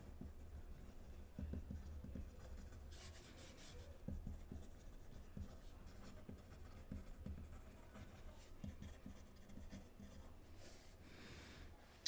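A Visconti Homo Sapiens Dark Age fountain pen writes on paper with a soft, continuous scratchy rub of nib strokes, quiet and close, with small pauses between strokes.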